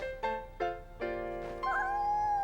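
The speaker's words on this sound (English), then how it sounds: "It's a kitten! It's a kitten!" A kitten meows several times in quick succession, clear and close, ending on a longer drawn-out cry.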